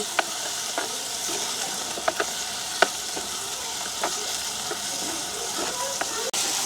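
Tomatoes and chilies sauté in a hot pan, a steady close sizzle with scattered sharp clicks of a spoon stirring against the metal, and faint voices in the background.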